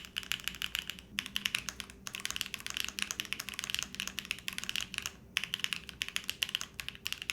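Continuous close-up typing on a Theseus75 split keyboard with HMX EVA switches on a carbon fiber plate, a dense clatter of key presses with brief pauses, alone and clear.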